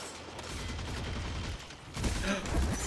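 Heavy weapon gunfire in a Destiny 2 PvP match, a rapid rattling burst of shots that gives way to louder, heavier booming blasts near the end.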